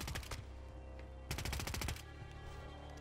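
Automatic gunfire in the Call of Duty Warzone video game rattles in two rapid bursts, a short one at the start and a longer one mid-clip, with fainter scattered shots after, no talking.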